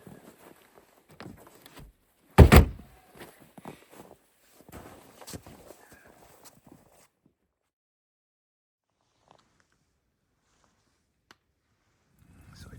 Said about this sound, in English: just now closed the door